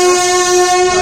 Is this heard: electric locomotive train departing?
yes